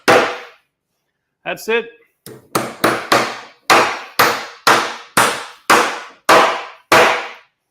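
A hammer drives nails into wood framing for fire blocking. A lone blow and a short spoken remark come first, then a steady series of about a dozen loud, sharp strikes close by.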